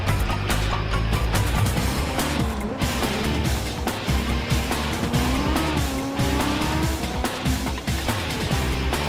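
A Porsche race car hammering around an asphalt track, its engine roaring loud and close without a break while the tires squeal and skid through the corners.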